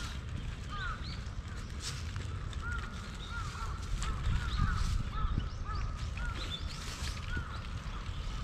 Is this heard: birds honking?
yes